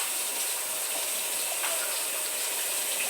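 Tap water runs in a steady, loud, hissing stream while dough is washed off hands during scone-making, continuous and close with no other sounds.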